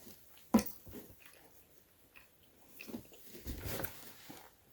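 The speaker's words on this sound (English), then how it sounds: "And I'm still chewing." Someone chewing rehydrated slices of dehydrated banana close up, with a sharp bite near the start and soft, irregular wet mastication and crunches that follow, alone with no talk.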